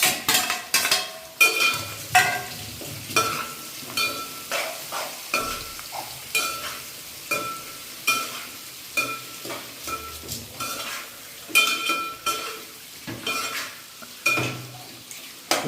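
Onions and green chillies frying in a pan, a steady close sizzle broken by repeated scraping and clinking strokes of a stirring spoon against the pan, with no voices.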